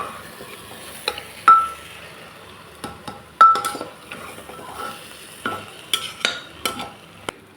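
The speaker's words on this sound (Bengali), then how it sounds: "একটু নাড়াচাড়া করে আমি জল দিয়ে দেবো, যেহেতু ভাজা ভাজা হয়ে গেছে ডাল চাল সবজি।" A spoon stirs dal, rice, peas and vegetables frying together for khichuri, giving scattered scrapes and sharp metallic clinks against the pot over a low sizzle, close and fairly quiet with no talk.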